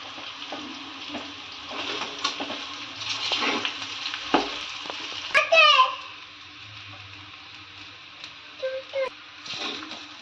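Sabudana khichdi with crushed peanuts, and potato already added, gets mixed in a pan with soft scraping stirs and a light sizzle. A voice and other speech sound faintly in the background.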